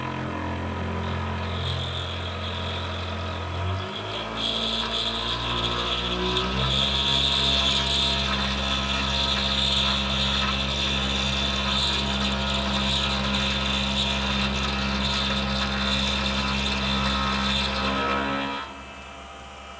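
Precision Matthews PM-728VT bench mill cutting metal with an end mill, a steady loud motor whine and cutting drone that holds for most of the stretch before stopping near the end, with no talk over it.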